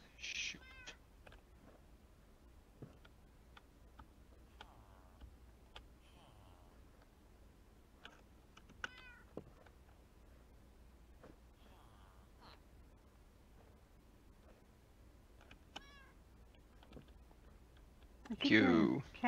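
Several short, quiet cat meows from a Minecraft-style video game scattered over a soft background hum, with light clicking and a louder burst near the end.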